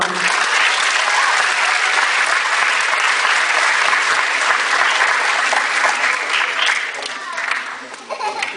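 A fundraiser show audience breaks into loud, dense applause with scattered laughter, sustained close and full before thinning out toward the end.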